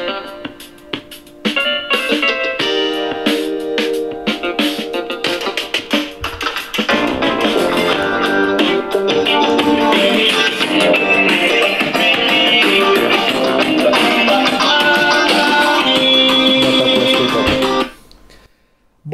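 Music plays loud and steady from a small portable speaker with a memory card reader, filling the clip with a full band mix that sounds fairly bright and light on bass, then stops abruptly near the end.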